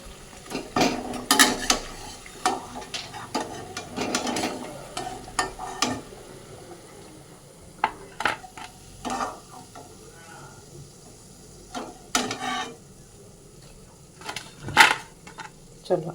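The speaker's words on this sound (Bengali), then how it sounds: "দুটো রেড পকোড়া কিন্তু আমার একদম ভাজা হয়ে গেছে এবার এক এক করে এগুলো তুলে নেবো" Pakoras frying in hot oil give a faint sizzle while a utensil lifts them out one by one, with scattered clinks and scrapes against the pan and some intermittent talking nearby.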